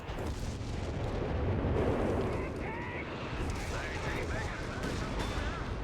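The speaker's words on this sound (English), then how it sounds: "Here goes the bishops firing on this armor" Bishop self-propelled artillery firing on armor in the Company of Heroes 3 video game: dense, rumbling battle booms and blasts that roll continuously over a low-heavy din, with scattered higher tones and a voice talking through it.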